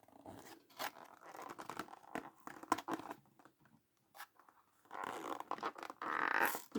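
A Hot Wheels booster pack being torn open by hand, with close, quiet bursts of tearing and crinkling packaging in uneven spurts and a longer rustle near the end.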